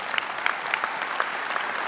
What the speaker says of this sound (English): y'all clapping helping me out a whole lot